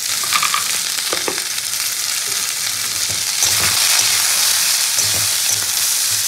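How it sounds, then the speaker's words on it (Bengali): Garlic fries in a covered pan at home with a continuous close sizzle, and a brief scrape or stir breaks through now and then. No one speaks. "এটা এখন শিলে ঢেকে ঢেকে ভাজবো, দারুণ হয় খেতে।"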